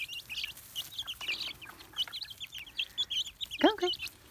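Chickens clucking and chirping close by as they are called in for treats, a busy scatter of short calls with a louder rising squawk near the end, and a person speaking softly among them.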